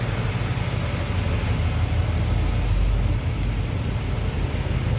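A 1951 Chevrolet 3100 pickup street rod's low, steady engine rumble with exhaust drone from newer exhaust, idling evenly throughout, close by and fairly loud with no voices.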